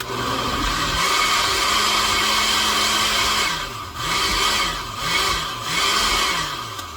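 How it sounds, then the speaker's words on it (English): A blender purees hot baked potato soup with broth, giving a loud continuous whirring drone whose pitch dips and rises several times as the contents shift, with no voices. "Got that in my blender."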